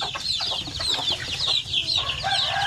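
Dense, continuous high peeping from a group of month-old Basilan and Zampen native chicks, many overlapping chirps close by with a low background rumble.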